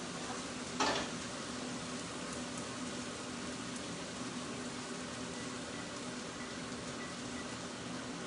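A pork tenderloin sears in a hot pan with a steady, close sizzle of frying fat throughout, broken by one brief clatter near the start, probably from the pan or utensil.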